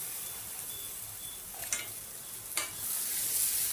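A pan of carrot and fenugreek sabzi with spices sizzles steadily over a medium-to-low flame, with two brief scraping stirs cutting through the hiss, close and with no speech.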